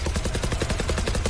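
A Sheriff pistol firing in a Valorant esports match, heard as a loud, dense burst of rapid percussive cracks with no pauses between them, filling the moment close and harsh.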